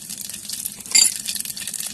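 Black cumin seeds hit hot oil in a heated wok with a short, bright sizzling burst midway, set against a faint steady background crackle.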